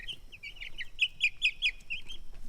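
Young chickens raised on a farm pasture give a quick run of high chirping, clucking calls, fairly close and moderately loud over faint low background noise.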